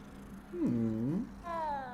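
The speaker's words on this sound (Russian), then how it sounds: "О, котик!" A cat in the video game Hogwarts Legacy gives two short meows close by, the first a rising-then-falling cry and the second briefer, over a low background hum.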